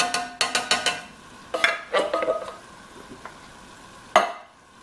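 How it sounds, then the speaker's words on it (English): Canned petite diced tomatoes tumble into a Dutch oven of cooking onion at a campsite, a quick series of wet clattering plops followed by scattered scrapes and a final sharp clink, loud and close. "now I'm going to add the other ingredients. 1 can of petite diced tomatoes"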